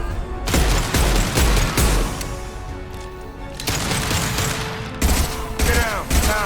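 Repeated impact shot gunfire from the video game Mass Effect 2, loud bursts of shots and booming blasts in several clusters, with a faint voice in the background.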